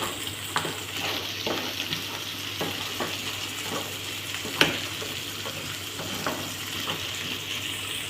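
Crabs fry in a pan under a steady sizzle while a utensil stirs them in regular scraping strokes, about one every second, with one sharper clank midway.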